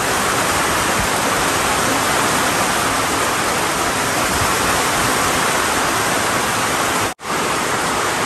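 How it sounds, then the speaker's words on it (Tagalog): Heavy rain pours down in a dense, unbroken hiss, loud and close, with a brief cut near the end. "grabe yung ulan, oh"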